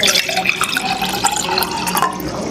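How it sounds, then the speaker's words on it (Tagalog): Water is poured into a blender already holding apple and cucumber for a skin-care juice, making a steady, continuous splashing and trickling pour that runs close and fairly loud throughout. "Next, lagyan na natin ng tubig."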